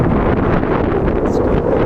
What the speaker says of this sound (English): as you can see now, it's still quite a bit of wind